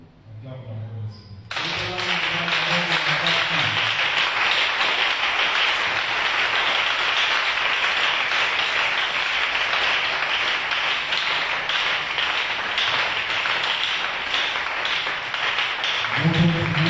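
A church congregation applauds loudly and steadily for over ten seconds, sustained dense clapping that follows a preacher's brief spoken line in French and fades as his voice returns.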